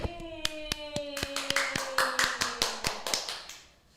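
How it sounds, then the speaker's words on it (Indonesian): A small audience claps for Pangeran, a child who recited Quran verses, on a children's program: a burst of distinct, fairly near handclaps in an uneven rhythm that thins out and fades over a few seconds, with a sustained tone underneath. "kita beri tepuk tangan dong buat Pangeran."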